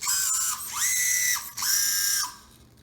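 A brushless motor drives an SCX24 RC crawler fitted with portal gear reduction, giving a high, close electric whine that rises and falls in two sustained bursts before fading out.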